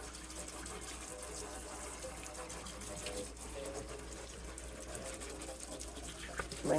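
Water runs steadily from a tap over indoor houseplant leaves being rinsed, a faint, even wash of splashing.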